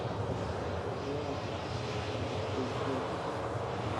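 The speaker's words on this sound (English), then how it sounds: "Beautiful Virgin Atlantic 330 on the taxi" A Virgin Atlantic A330 airliner taxis at Manchester Airport, a steady broadband engine roar and hiss held at a moderate distance throughout.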